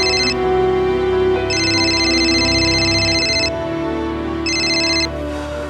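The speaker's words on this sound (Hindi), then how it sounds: "एक काम करो, उस विकास को फोन करो" Telephone ringing at a police station, repeated bright electronic rings in short bursts over a steady background tone, loud and close.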